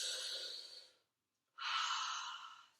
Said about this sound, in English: Take a second deep breath.